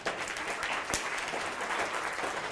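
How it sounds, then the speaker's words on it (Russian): A lecture audience in Smolensk applauds the speaker: a fairly quiet, even wash of many hands clapping at once, sustained for the whole stretch with one sharper clap standing out near the middle. "Наши аплодисменты."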